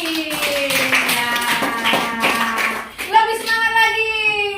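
Classroom applause for a student, a burst of rapid clapping from many hands, with children's voices chanting or calling over it throughout.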